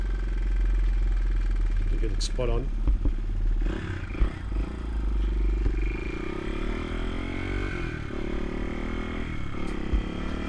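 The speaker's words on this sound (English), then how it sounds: "Just turn the idling down a bit" A restored 42-year-old Honda XR200R motorcycle engine idles nearby with a steady low rumble while someone talks over it, with occasional clicks and clatter as the idle is adjusted.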